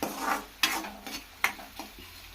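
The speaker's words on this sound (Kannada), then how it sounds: "ಆನಿಯನ್ ಸ್ವಲ್ಪ ಫ್ರೈ ಆಗಿ" Onion fries in a pan while a spoon stirs it, giving a soft steady sizzle broken by a few sharp scraping clicks against the pan, close by with no talking.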